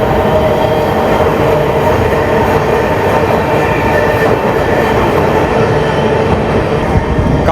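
An Amrit Bharat Express train rumbles loud and continuous as it runs across the Kaveri river at about 60 km/h, a dense, steady roar of wheels and carriages heard from on board.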